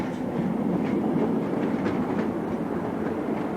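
A train passing on a railway, a loud continuous rumble and rolling clatter of wheels on track that stays steady and close throughout.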